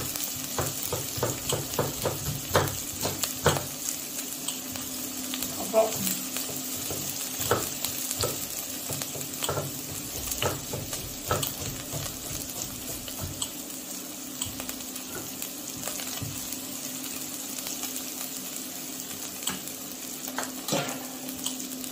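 Shallots and sole stock simmer and sizzle in a pan in a French kitchen, a steady hiss with frequent soft crackles and a few stirring taps, moderately quiet and continuous.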